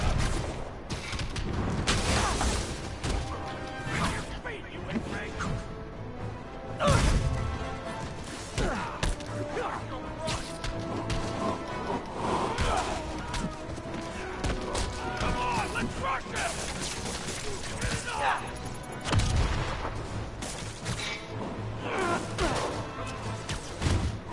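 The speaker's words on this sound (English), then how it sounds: "Grenade!" Busy video game combat in Shadow of War, with a grenade blast and scattered gunfire, thuds and crashes over a continuous noisy din, broken by a few louder booms. Someone talks over it throughout.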